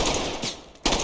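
Automatic rifle fire in the tactical shooter game Ready or Not, with two rapid bursts of close, loud gunshots separated by a brief pause.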